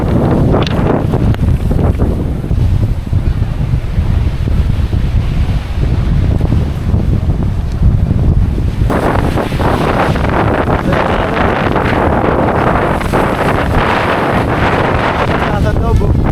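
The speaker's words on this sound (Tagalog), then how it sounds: "Sobrang lakas na hangin, nabasa ako." Strong wind buffets the microphone at Malagundi Point, a seaside spot in Lobo, Batangas, with roaring gusts and surf noise throughout, growing harsher partway through, while people talk under the rush.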